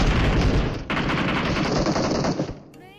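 Gunfire and an explosive boom in the mobile battle royale game Free Fire, played on an iPad Mini 5: a loud, dense burst of shots and blasts that holds steady, then cuts off sharply near the end.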